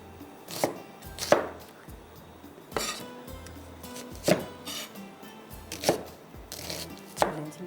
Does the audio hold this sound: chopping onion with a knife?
yes